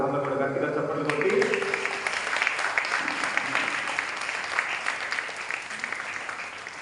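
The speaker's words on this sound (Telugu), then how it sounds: "ఒకసారి అందరూ కూడా గట్టిగా చప్పట్లు కొట్టి" A church congregation claps loudly to welcome visiting priests: dense, steady applause swells in after a brief spoken moment and continues throughout, filling the room.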